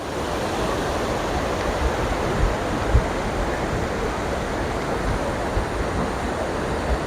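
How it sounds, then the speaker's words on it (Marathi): Water overflowing from the Bindusara dam makes a steady, dense rushing roar, constant and fairly loud throughout, with no voices. "भरगच्च असं वरून भरून वाहणारं पाणी पाहून नक्कीच हा आनंद आपल्याला घेता येईल"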